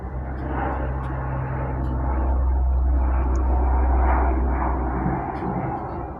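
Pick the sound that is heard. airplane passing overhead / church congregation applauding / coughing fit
airplane passing overhead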